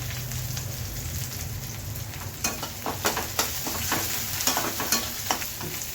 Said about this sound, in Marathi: आपला लसूण कांदा परतून झाल्यावर आपण ह्याच्यात घालणार मिरच्यांचे तुकडे